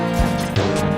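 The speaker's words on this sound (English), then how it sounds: "the music in this stage is probably my least favorite in the game" One second of Tunnel Rhino stage music from the video game Mega Man X3 plays on its own: sustained tonal synth layers over a low pulse, loud and steady, with a brief dip in the middle.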